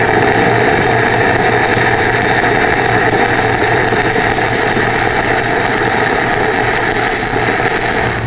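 Stick welding with a 7018 rod on 1/8 inch steel plate at 124 amps on an Everlast PowerARC 200ST, a loud, continuous crackling arc buzz held steady and close throughout.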